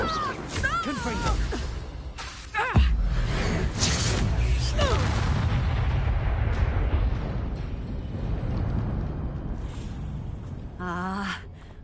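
Fiery Confringo blasting spells burst in Hogwarts Legacy combat, loud whooshing explosions rolling over a few seconds amid shouted voices and battle noise.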